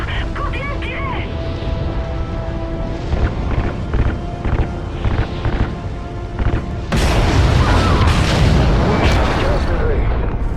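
Heavy gunfire and booming blasts from a French-dubbed space action movie trailer, loud and close, with rapid bursts giving way to a sustained roaring barrage, with shouted voices mixed in.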